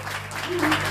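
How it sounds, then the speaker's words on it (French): Audience applause for a gospel group at a Catholic church event in Cameroon, a steady wash of clapping lasting under a second and swelling slightly toward the end. "est-ce qu'on peut applaudir plus fort pour le groupe Gospel Groove?"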